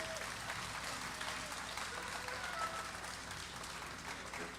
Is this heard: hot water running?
no